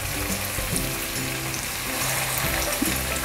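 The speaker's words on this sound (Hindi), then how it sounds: "अब हम इनको फ्राई करेंगे" Nargisi koftas, meatballs with egg inside, fry in hot cooking oil in a frying pan, giving a dense, continuous close sizzle and crackle with no talking and faint music underneath.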